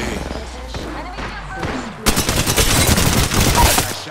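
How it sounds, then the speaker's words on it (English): Rapid bursts of gunfire in the Apex Legends video game open abruptly after a quieter stretch of game sounds, then run as loud, dense, overlapping volleys close by to the end. "I shot at an enemy shooting and I downed an enemy"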